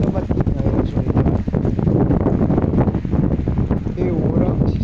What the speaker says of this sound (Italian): e ora si sta alzando un po' di vento